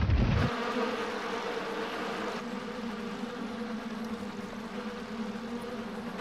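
A swarm of bees buzzing in a cartoon, a dense steady drone after a brief loud burst at the start, continuous and close, with no talk.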